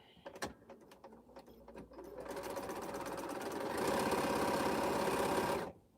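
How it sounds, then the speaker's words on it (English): A sewing machine stitches quilt pieces together for an Exploding Star quilt, starting with a few close clicks and taps, then running in a steady, loud, continuous whir that builds and stops abruptly near the end. "start sewing these pieces together"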